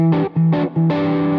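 Overdriven Stratocaster with a passive mid boost mod plays two short stabs and then a held chord, with a thick, forward midrange tone, loud and close.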